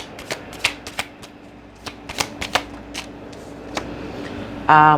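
Tarot cards being shuffled up close, a run of sharp riffling snaps and flicks with short pauses between, ending in a brief tonal buzz; no talking.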